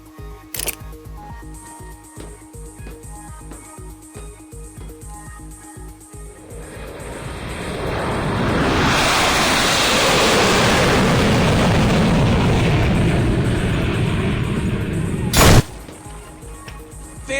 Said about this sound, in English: You can lock onto a target, activate the missile, and send it on its way,